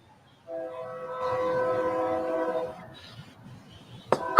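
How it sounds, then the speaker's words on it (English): A train passes with a long loud horn blast that fades out, followed by faint rumble and a couple of sharp clanks near the end. "I hear another fuck train coming."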